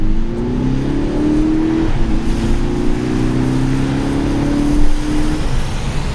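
A VW Golf GTD diesel in sport mode accelerates hard from inside the cabin, its engine note climbing steadily through a long gear with a brief shift dip, loud and continuous with no talking.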